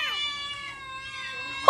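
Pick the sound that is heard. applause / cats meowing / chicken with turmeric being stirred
cats meowing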